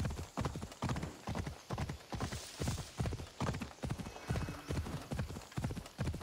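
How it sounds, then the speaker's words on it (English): Rhythmic horse hooves clip-clopping steadily at a trot in the Assassin's Creed Odyssey video game, close and continuous with no talk over them. "Phobos is a magic horse."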